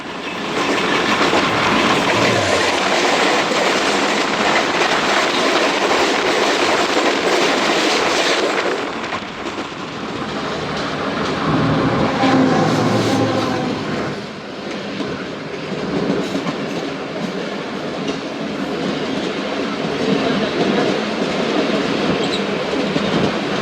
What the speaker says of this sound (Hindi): ट्रेन, तो सामने से आ रही है 14 टाउन आवाम एक्सप्रेस